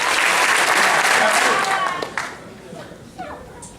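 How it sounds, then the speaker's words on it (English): An audience at a student conference claps in unison, a burst of loud applause that fades into scattered claps and crowd noise. "We'll get 5 big claps."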